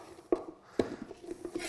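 A knife rough-chops a sweet onion on a board, giving a few sharp knocks spaced irregularly, followed by lighter quick taps, close and fairly quiet.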